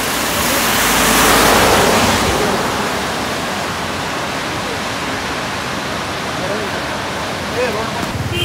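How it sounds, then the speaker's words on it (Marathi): Tamhini Ghat waterfall roars in a dense, steady rush of falling water, loud and close, swelling early and then holding an even, unbroken wash. "शेवटची झलक पहा आपल्या तामिणी वॉटरफॉल धबधब्याची।"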